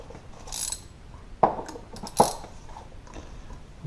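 A 10mm ratchet wrench tightens bolts on a Honda Express NC50 moped during clutch work, giving two short, close mechanical bursts of clicking a moment apart over a quiet background.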